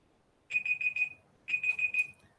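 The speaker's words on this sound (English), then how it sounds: "And there's my timer saying I've used it out." A session timer alarm going off in two bursts of four rapid, shrill electronic beeps, clear and fairly close with no talk.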